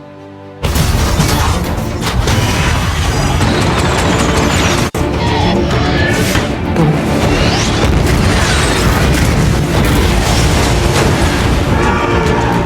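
A destroyer's naval guns fire in a continuous, dense roar of booming blasts and explosions, loud and unbroken throughout with one brief dip midway, alone without talk.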